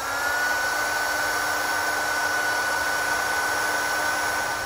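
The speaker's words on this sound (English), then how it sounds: "we're going to take our heat gun and seal up the ends" Heat gun blowing a steady, loud airflow hiss with a faint constant whine while sealing the ends of crimped butt connectors on a vehicle trailer wiring harness; no voices.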